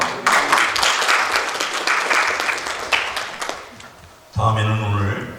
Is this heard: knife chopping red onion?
no